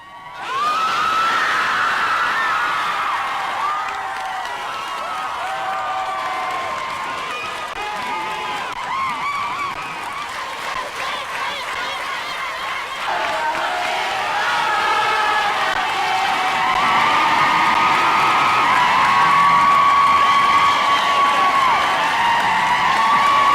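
A large crowd cheers and whoops at the announcement of the Eighth Amendment repeal, a sustained loud roar that swells in the second half, with screams and shouts carrying over it.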